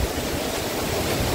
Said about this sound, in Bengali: যে ঝর্ণা দেখেন, থানকুয়ান ঝর্ণা